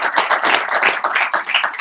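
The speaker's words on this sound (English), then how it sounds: "let's go ahead and give a round of applause for everybody who's spoken so far" A small group claps for the speakers at a meeting, close and uneven bursts of hand claps with brief dips in between.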